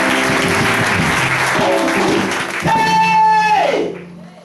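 A church congregation breaks into loud, sustained applause and cheering during a Sunday service, with voices and a sung tone rising over the clapping before it fades out near the end.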